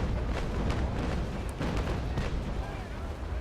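Broadside of 6-pounder long cannons from the frigate Cerberus in the naval battle game Naval Action Legends, with several deep booming shots rolling together into a dense, loud rumble.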